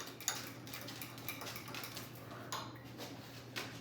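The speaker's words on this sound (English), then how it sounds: "we just want to mix this up really well. I'm just using a fork" A fork whisks shrimp sauce in a bowl, making a brisk run of light clicks and scrapes against the bowl at close range, with no talking.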